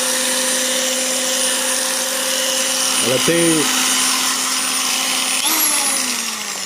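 An electric polisher set to sander mode, used while restoring a motorcycle fairing, runs with a steady whirring motor hum. Its pitch shifts slightly near the end, and a brief voice cuts in partway through.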